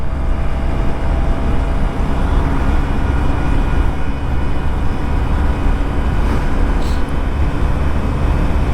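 Honda Activa 6G 110cc fuel-injected scooter riding, a constant loud rumble of engine and wind noise with no breaks, heard close from the rider's position.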